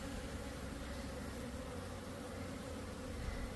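A steady, dense buzzing of many honeybees flying in and out of a hive on a February day, a continuous low hum that stays even and fairly close throughout with no voices.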